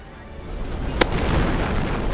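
A battlefield explosion in the World War II strategy game Company of Heroes: one sharp, loud crack followed by a low, rolling rumble that lingers under steady background battle noise.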